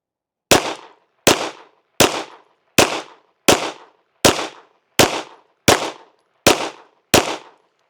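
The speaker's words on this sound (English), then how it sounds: "this time we got 10 rounds of the 115 grain arms core range ammo loaded up. Let's shoot a group at that bottom right target." A SAR9 Socom pistol fires ten rounds of 115 grain range ammo at a target, ten sharp loud evenly spaced shots about three quarters of a second apart, alone with no talk.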